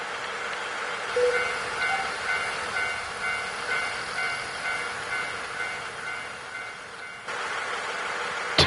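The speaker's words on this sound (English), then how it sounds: "I can't hear you over the train." A train rumbling steadily in a nostalgic Japan walking game, a continuous mid-level roar with faint tonal whines, a brief dip near the end and then a return, with no talk.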